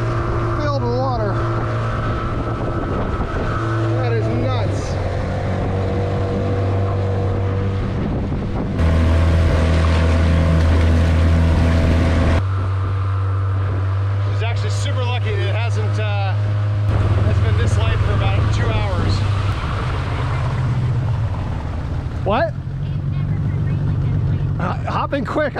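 Dinghy outboard motor droning steadily on water, a low continuous hum that shifts pitch as the throttle changes, with heavy wind buffeting and people talking over it.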